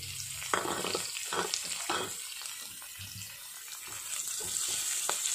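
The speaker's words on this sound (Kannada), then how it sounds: "ಇದು ಕಂದು ಬಣ್ಣ ಬರೋ ತನಕ ಫ್ರೈ ಮಾಡ್ಕೋಬೇಕು" Onions and curry leaves frying in hot oil, crackling and sizzling up close with bursts of spatter and a few stirring scrapes, a continuous hiss underneath.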